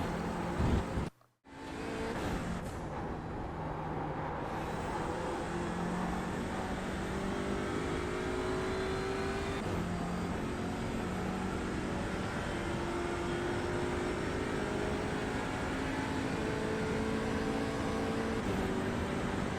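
A TCR touring race car lapping the Imola Grand Prix circuit in a racing sim, its engine droning steadily and loudly throughout, with pitch climbing and dropping through gear changes after a brief cut near the start.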